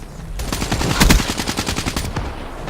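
Rapid bursts of machine gun fire rattle in a steady, loud stream of closely spaced shots, peaking in intensity midway before continuing in even repeated pulses.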